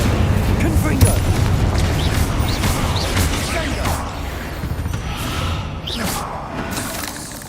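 Confringo blast spells in the Hogwarts Legacy video game burst as a dense run of booming explosions and whooshes over a constant loud battle rumble, several sharp impacts spread through the stretch.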